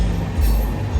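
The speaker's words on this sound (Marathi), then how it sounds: "समोरून आता ट्रेन चालली" A train rolls past at Kasara Ghat, a steady low rumble of railcars filling the short moment close by, with no talk over it.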